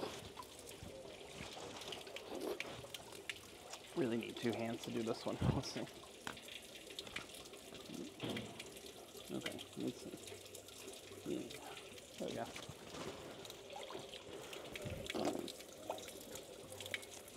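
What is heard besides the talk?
drinking water running from an ancient public fountain in Dubrovnik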